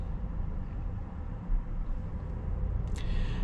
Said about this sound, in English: Really, the only noise you hear is just a little bit of tire noise.